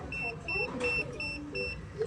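A cellphone gives a low-battery warning during an electric fan repair, a row of short, evenly spaced high beeps repeating under faint background noise and handling sounds.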